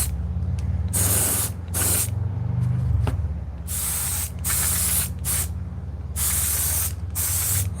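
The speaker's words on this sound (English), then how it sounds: "Check out my airbrush setup. Let's start doing dye." An airbrush spraying dye onto leather, loud hissing sprays in repeated bursts of a second or so with short pauses between, over a low steady compressor hum.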